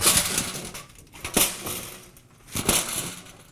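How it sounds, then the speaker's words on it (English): A theater crash box is shaken, giving bursts of rattling, clattering debris noise in three rough surges, close and fairly loud with brief quieter gaps between them. "This is called a crash box, and it makes that sound."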